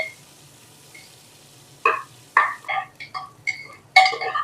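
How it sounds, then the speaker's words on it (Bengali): Onions frying in a pan, with a soft sizzle under intermittent clinks and scrapes of a spatula stirring against the pan, quiet at first and then busier with irregular strokes. "পেঁয়াজটাকে খানিক্ষণ ভেজে নেব"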